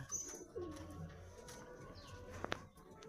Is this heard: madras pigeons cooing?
yes